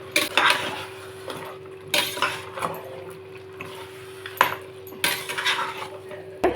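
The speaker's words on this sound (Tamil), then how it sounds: "எல்லாம் சேர்த்து கலந்து விட்டுக்கலாம்." A spoon stirs mutton biryani masala in a metal pot, scraping and clinking repeatedly against the sides in an uneven rhythm over a steady background hum.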